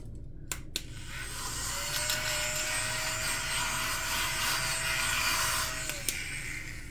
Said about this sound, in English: Okay, vacuum. Watch your ears.